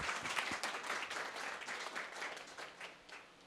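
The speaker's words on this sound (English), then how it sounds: "round of applause for Bin." Wedding reception guests applaud for the bride's brother, a dense, steady round of clapping that holds for a few seconds and then thins slightly toward the end, heard fairly close and without talk over it.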